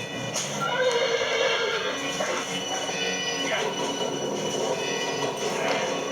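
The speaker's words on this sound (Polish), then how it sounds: "I nasz koń robi hadum." A horse whinnies in the Western shooter game Call of Juarez: Bound in Blood, with a long, loud, wavering neigh over a dense game soundscape with continuous mechanical, rail-like background noise.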